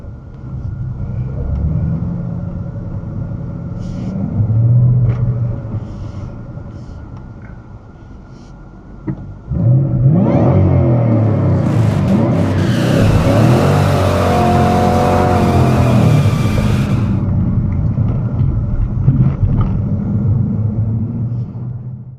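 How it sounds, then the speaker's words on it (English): A classic hot rod engine at a car dealership lot idles with a low rumble, then roars into loud, sustained revving and acceleration that holds for several seconds before easing back to a steady idle, close to the microphone with no talk. "he asked if I could swing around front and rev the car up a little bit for him."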